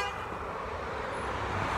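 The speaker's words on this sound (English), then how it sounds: "someone honked a horn and said, come here." A car horn honks on a street, a steady sustained toot with traffic rumble underneath, fairly close and continuous through the short moment.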